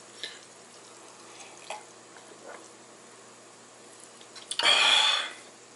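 Carbonated water from a Sodastream fizzes briefly in a glass: a sudden hissing, crackling burst near the end follows a mostly quiet stretch with a few faint ticks and drips.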